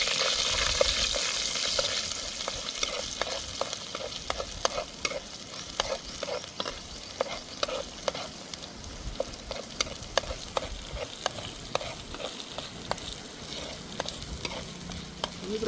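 Ginger-garlic paste frying in hot oil, a continuous crackling sizzle broken by a regular series of sharp spoon scrapes and taps against the pan as it is stirred, close and moderately quiet, with no talk.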